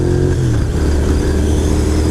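Dual sport motorcycle engine droning steadily while riding on the road, loud and close, with a constant low hum and wind rush throughout and no voices.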